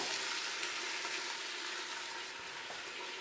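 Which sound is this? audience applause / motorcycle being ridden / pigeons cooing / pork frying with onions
pork frying with onions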